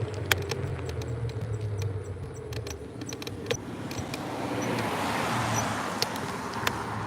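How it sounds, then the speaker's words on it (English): A car rolls past on a neighbourhood road in Kettering near a park and school, a soft broadband swell building and fading over several seconds, with scattered clicks and a constant background hum. "I'll let this car pass by."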